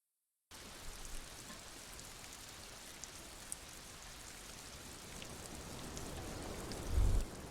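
Steady rain falls in Disco Elysium, a continuous soft hiss of drops on surfaces that holds even throughout and swells slightly near the end, with no voices over it.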